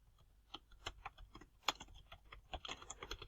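Quick, irregular key taps on a computer keyboard, faint and close, clicking in uneven bursts with a slightly sharper strike midway and no voices.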